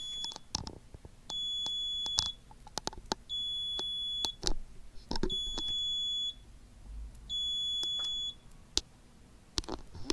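Electronic buzzer on a microcontroller smart-home test board driven by a digital pin set high, giving four evenly spaced steady beeps about a second long each, close and clear, among faint clicks and handling noises.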